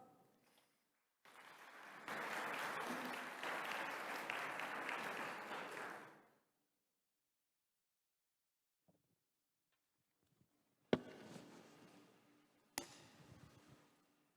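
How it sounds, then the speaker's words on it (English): Audience applause for panelists at an education ministerial session swells into a sustained burst of clapping for several seconds, then cuts off into near silence, followed by two shorter, sharper bursts of sound later on. "A warm round of applause."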